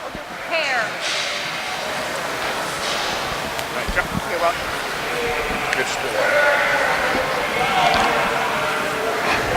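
Lincoln yearling ewes bleat now and then in a show ring, over a steady background of wind and crowd noise, with someone talking throughout.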